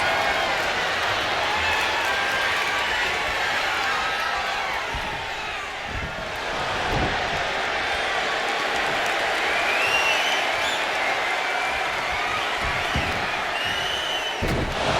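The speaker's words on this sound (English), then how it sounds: "This crowd's just eating it up." A wrestling arena crowd in the WWE 2K25 video game roars and applauds in a steady, dense wash of noise throughout, with a few thuds from the ring beneath it.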